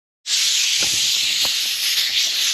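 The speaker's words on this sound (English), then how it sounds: "I'm going to use a blowgun. Basically, we're going to use some compressed air" A compressed air blowgun firing at ATV handlebar grips, a sudden loud, steady hiss that starts abruptly and holds for over two seconds, close up.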